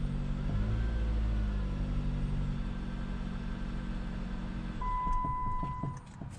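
A 2015 Jeep engine struggling to stay running, a steady low rumble held up on the throttle, fairly loud and close, then dipping and changing tone near the end as it nearly stalls.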